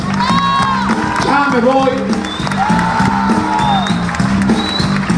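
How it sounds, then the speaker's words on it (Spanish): A concert audience at a fair in Huajuapan cheers, whoops and claps while a performer keeps talking over them and music plays underneath, the crowd noise filling the whole stretch at a steady, lively level. "Un aplauso para todos ustedes"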